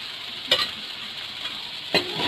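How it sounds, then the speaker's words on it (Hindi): Onions stirred and frying for spicy spaghetti, a steady hiss of sizzling oil with two sharp scrapes of a utensil against the pan. "और साथ ही इसमें अनियन जाएंगे, अनियन इसमें डालूंगी।"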